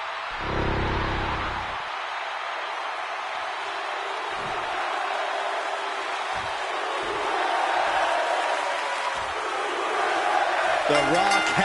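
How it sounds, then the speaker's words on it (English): Arena crowd cheering in the WWE 2K25 wrestling video game as The Rock enters, a steady roaring wash of noise lasting throughout, with commentators talking over it. "The Rock has to be feeling the energy from the crowd right now."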